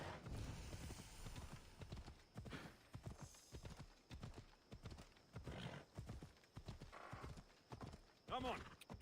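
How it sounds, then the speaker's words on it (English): A donkey walks with steady, close hooves clip-clopping on a hard surface, alongside an occasional whinny-like call. People talk over much of it. "Good donkey. Good donkey."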